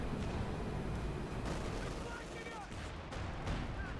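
In Company of Heroes 2, a Panzerwerfer rocket barrage slams down on a StuG, a dense rumble of overlapping blasts and crackling impacts under continuous battle noise, with a commentator's voice running over it.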